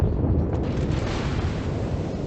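Heavy naval gunfire from an enemy ship in World of Warships, a deep rumbling blast that rolls on as a continuous low roar, loud and close with no voices over it.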